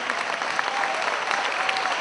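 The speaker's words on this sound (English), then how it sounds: "Shall we give them a final round of applause?" An audience applauds at a live event, dense continuous clapping from a crowd, loud and sustained throughout without talk.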